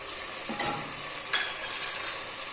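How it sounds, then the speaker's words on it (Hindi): Tomatoes frying in a pan for a bhindi gosht masala, a soft steady sizzle with two brief spoon scrapes, close and without talk. "टमाटर की यहाँ पे भुनाई हो रही है"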